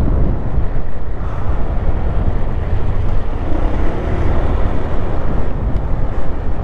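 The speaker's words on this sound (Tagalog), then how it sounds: "Lakas ng hangin." Strong seaside wind buffets the microphone of a motorcycle riding along the Batangas City coast, a steady loud roaring rumble with no break.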